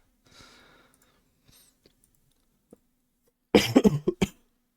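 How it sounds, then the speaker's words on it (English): A person with a lingering cough breathes and sighs softly, then lets out a loud burst of several rapid coughs close to the microphone, followed by silence. "you're going to very much hear coughing all day"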